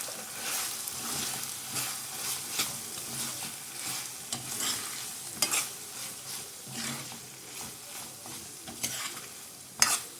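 Half a kilo of boiled prawns with onion being stirred in an oily pan, a steady sizzle broken by repeated scraping strokes of the spoon, close and continuous with no talk.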